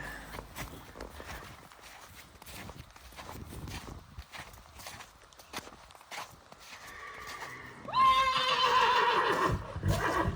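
Hooves clop and shuffle at a walk, then a Brabant draft horse lets out a loud, drawn-out whinny close by near the end.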